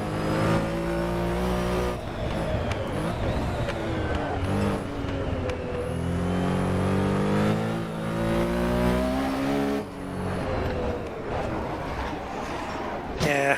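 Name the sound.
race car exhaust crackling off throttle, Assetto Corsa Competizione video game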